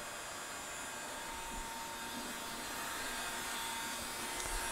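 A Mitek MT-1224ASD 12 x 24 inch automatic three-axis surface grinder running with automatic step feed, a steady broadband motor and hydraulic whir that holds constant throughout.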